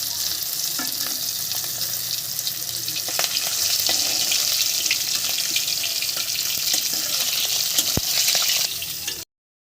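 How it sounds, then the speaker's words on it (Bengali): Black cumin seeds temper in hot oil with an intense, unbroken hissing sizzle, close and loud, that swells slightly midway before cutting off abruptly. "কালো জিরে ফোড়ন দিলাম"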